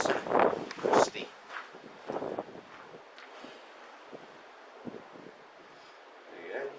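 Strong gusts buffet the microphone outdoors at the ruins of Croxden Abbey, coming in loud rumbling bursts early on, then easing to lower rushing noise with scattered swells.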